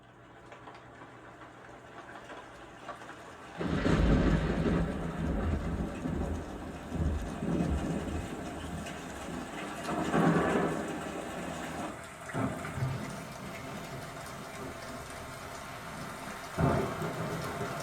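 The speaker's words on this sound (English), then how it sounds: "my usual demo, Rainstorm Dolby Digital Plus" Rainstorm with thunder in Dolby Digital Plus, played through a Samsung Q90R TV over eARC: steady loud rain wash with deep rolling thunder swells, no talking.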